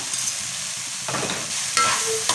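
Vermicelli upma with coriander and mint leaves gets mixed in a pan, a soft steady sizzle broken by a few scraping stirs near the end, close by and without speech.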